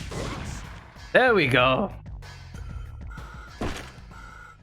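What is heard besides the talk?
grenade launcher shots in Parasite Eve 2 video game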